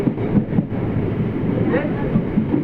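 A suburban train of 12 coaches runs from Fort toward Park Town station, its steady rumble and rail noise filling the carriage from close by, with rhythmic wheel clicks.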